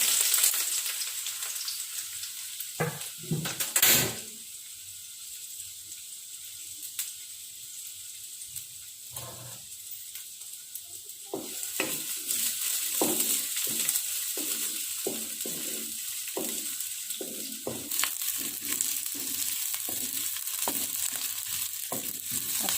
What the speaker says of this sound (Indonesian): Saya mau buat bawang goreng dulu.